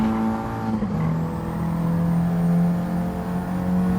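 A Toyota Celica GT-Four with four-wheel drive drones steadily in Gran Turismo 7 at Suzuka, its engine note dipping briefly and then holding a sustained throttle tone, loud and alone.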